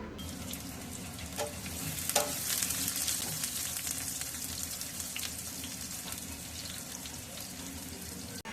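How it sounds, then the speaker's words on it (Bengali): Onions frying in oil in a pan while being stirred, for a liver bhuna: continuous soft sizzle with scattered scraping stir sounds, close and fairly quiet, no talking. "পেঁয়াজ ভালোভাবে নেড়ে চেড়ে ভেজে নেব।"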